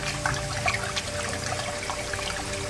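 Water pours and trickles continuously over rice being washed in a container, a close, splashy running sound with small gurgles, no voices.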